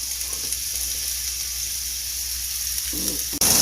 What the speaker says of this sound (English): Now we're just going to cook the meat a little bit on all sides of the ball.